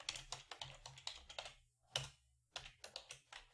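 Fingers type on a computer keyboard in quick, close clicking bursts, with a brief pause midway before the keystrokes resume.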